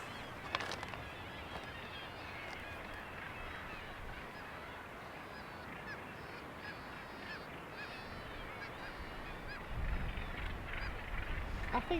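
Gannets calling at the Bempton sea bird cliffs RSPB reserve, a dense chorus of harsh cackling calls over constant wind and surf, fairly distant, with a gust of wind noise rumbling near the end.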